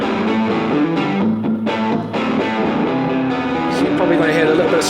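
Electric guitar played through a BOSS GT-1000 multi-effects unit with a full, springy reverb and some drive, ringing chords and notes sustaining continuously at steady loudness.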